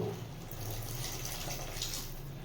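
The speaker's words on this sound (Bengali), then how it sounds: "এই সময় পরিমাণ মতো জল দিয়ে দেব" Water pours steadily into a pan of Bengali mustard fish curry (sarpunti sorshe posto) with spices fried until the oil separates, a continuous close rushing splash with no talk.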